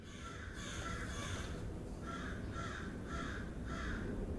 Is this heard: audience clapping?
no